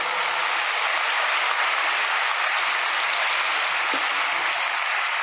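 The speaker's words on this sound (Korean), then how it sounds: "박수!" A dense, steady wash of applause from a large crowd at a religious convention in a convention hall in Songdo, Incheon, sustained clapping without pause for several seconds.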